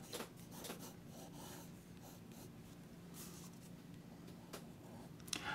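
A sketching pencil scratches across paper in quick, close, quiet strokes, with short bursts of hatching separated by brief pauses.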